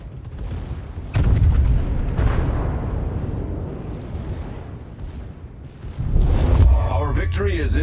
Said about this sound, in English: I'm going to hit him with my rear turret.